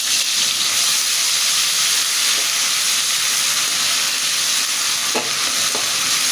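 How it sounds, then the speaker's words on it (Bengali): Ginger-garlic paste sizzles in hot oil in which cumin was fried, making a loud, continuous frying hiss with a few stirring clicks toward the end. "এখন আমি এই তেলেই একটু আদা রসুন বাটা দিয়ে দেবো"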